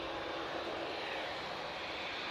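Boeing Dreamliner jet taking off at Manchester Airport, a faint distant broadband roar holding steady throughout.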